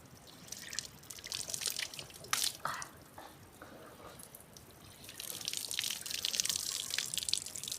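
Water from an irrigation channel runs down through a pipe toward trees on a Konkan village farm, a continuous splashing trickle heard close, with the flow growing stronger toward the end.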